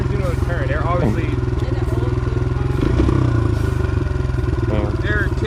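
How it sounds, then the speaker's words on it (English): Motorcycles are doing wheelies on a closed-off road. A loud, steady engine drone holds throughout, with revving swells and a rough surge near the middle, heard close up. Someone talks over the noise. "There are kids out here on a closed off road doing wheelies."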